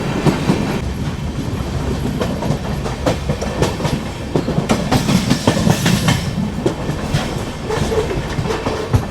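A diesel passenger train on a single-line ghat section, hauled by its former banker locomotive after a reversal, rolls along with loud, continuous rail rumble and irregular clickety-clack wheel knocks, heard from inside with no voices.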